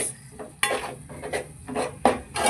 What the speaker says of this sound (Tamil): நல்லா வதக்கிக்கோங்க ஃப்ரெண்ட்ஸ்